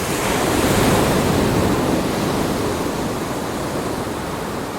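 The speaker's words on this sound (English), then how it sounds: "In the ocean, the sound of crashing waves." Ocean waves crash in a continuous, loud wash of surf, a dense roar with no breaks or voices.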